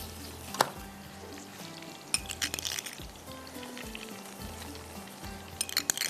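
Hot butter tadka tempering sizzles and crackles as it is poured over a dish of makki ki roti with chilies, heard as faint close frying hiss with a few clinks of a utensil and no talking.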